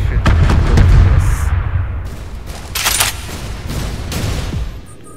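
Airstrike explosions in the video game Trepang2, a rolling series of heavy blasts and crackling bursts: dense rumble at the start, then several sharp impacts later, all loud and close.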